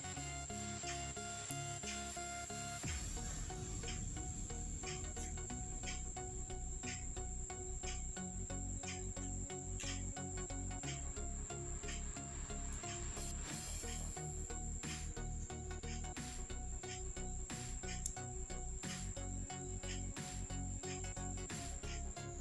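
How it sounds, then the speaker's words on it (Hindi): Taro (arbi) pieces fry with spices in a pan, a steady dense hiss and crackle that runs continuously at moderate level, with scattered scraping clicks of stirring throughout. "इस प्रकार से अरबी को थोड़ी देर के लिए हम भून लेंगे।"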